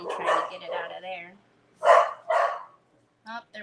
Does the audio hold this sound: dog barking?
yes